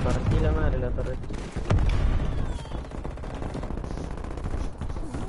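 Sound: turret firing in video game Call of Duty Cold War

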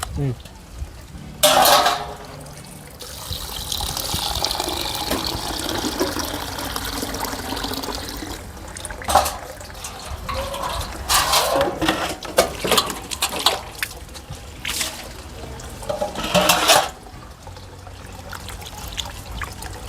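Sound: water splashing while washing raw mutton

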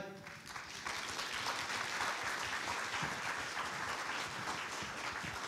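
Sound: audience applause welcoming musical actor on stage

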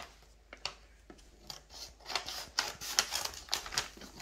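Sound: cutting paper package with scissors

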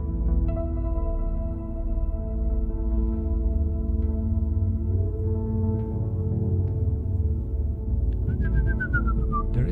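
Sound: synthesized whistle sound from VCV Rack modulated by LFO

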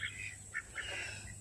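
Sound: domestic birds squabbling, duck quacking

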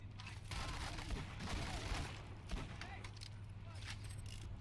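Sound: sniper rifle gunfire in Borderlands 2 video game

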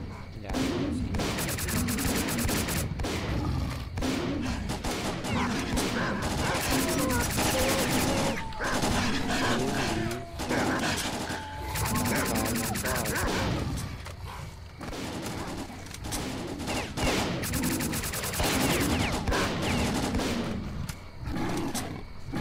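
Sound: gunfire from the video game S.T.A.L.K.E.R.: Clear Sky

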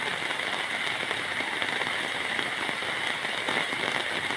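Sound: heavy rain

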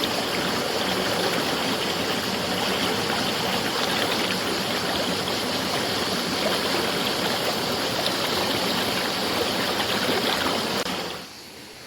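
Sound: waterfall-fed stream flowing

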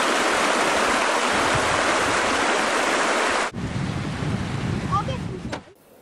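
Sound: River Nairn flowing over boulders

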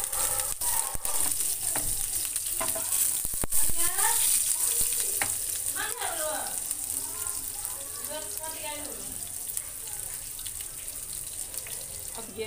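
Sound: fennel and green chilli sizzling in tempering oil for dal

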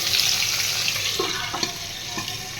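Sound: egg frying in a pan

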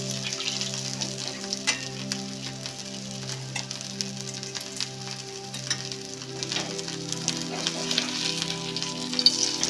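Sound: potato patties shallow-frying in oil on both sides

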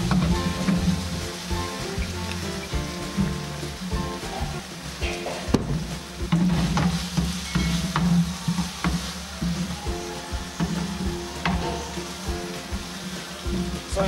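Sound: stirring tomatoes to coat them in barbecue sauce

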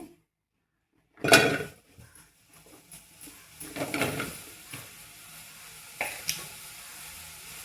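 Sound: okra cooking in a pan on the stove

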